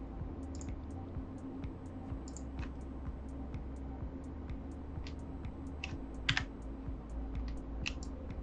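Soft clicking keystrokes on a computer keyboard as a command is typed into Rhino 3D modeling software, light irregular taps in short bursts over a low steady hum, no talking.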